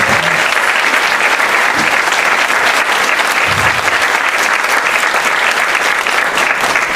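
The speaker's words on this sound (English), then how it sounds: "Can we have one more final round of applause for all our nominees and recipients?" A full hall gives a last sustained round of applause for nominees and award recipients at a women's excellence awards event, loud, even clapping with no pause for the whole stretch.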